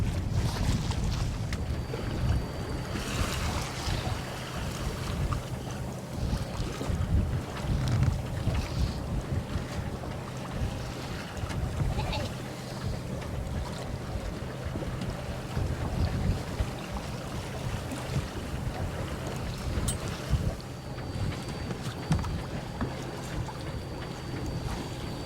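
A sailboat under way in Greece's Outer Sporades marine parks, with steady wind buffeting the microphone and water rushing along the hull, a continuous broadband roar that holds throughout without any talking.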